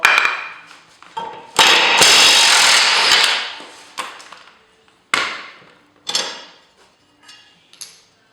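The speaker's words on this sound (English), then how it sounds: "you can put your wrench on here and twist on that." Work on a John Deere 100 series mower blade, with sharp metallic clanks and knocks and a longer grinding, rasping burst as the wrench loosens it, then several fading clatters, close and loud with no talking.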